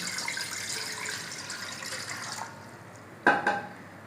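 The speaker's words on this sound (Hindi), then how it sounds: "देश घी में पानी डाल लेंगे।" Water is poured into desi ghee while cooking black gram, giving a steady running trickle that fades, then a brief sharp splash and sizzle near the end.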